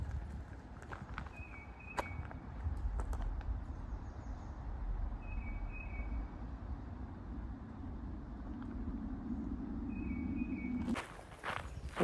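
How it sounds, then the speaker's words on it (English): Footsteps crunching steadily along a gravel trail through woods near the Blue Ridge Tunnel at Rockfish Gap, Virginia. The steps are soft and continuous, with faint bird chirps above them and a louder rustle at the very end. "we're going to be doing about a mile walk on this nice gravel trail"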